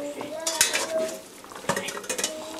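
A lid is set over a pot of veal roast, giving metallic clinks and clatters of pot and lid over a faint sizzle.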